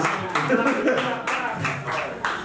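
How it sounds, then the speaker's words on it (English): Audience clapping for a band at a live show at Proud Mary's in Atlantic City, a short burst of scattered, fairly close hand claps with a voice over it. "That deserves a clap."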